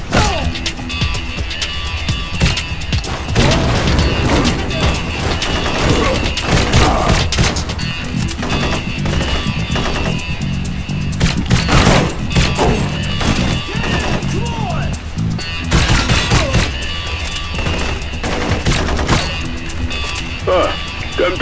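Gunfire in the rail shooter Blue Estate, inside a tunnel: rapid bursts of shots and sharp impact cracks repeat loudly throughout, layered over crashes, thuds and a busy game soundtrack.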